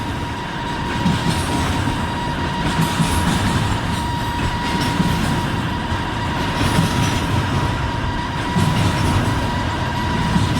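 A Norfolk Southern freight train passes with a loud, continuous rumble of rolling cars, rhythmic wheel clatter and a faint steady squeal, close by and alone throughout.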